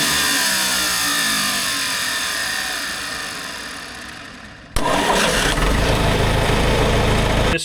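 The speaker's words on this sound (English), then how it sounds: "This starter is annoying." A John Deere 410 backhoe's engine cranks with a long, fading starter whir, then catches abruptly and settles into a loud, steady running rumble.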